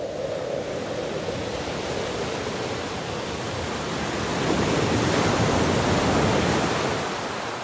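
Sea waves breaking and washing along an island shore, a steady broadband roar that swells louder toward the middle and then eases slightly, with no voices.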